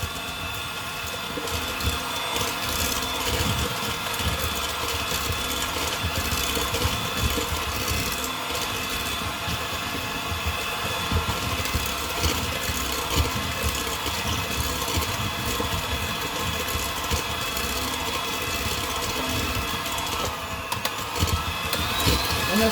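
An electric mixer whisks egg whites with sugar for French meringue, its motor whirring steadily and loudly without a break for over twenty seconds.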